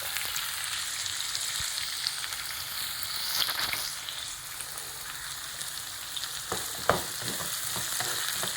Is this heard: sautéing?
yes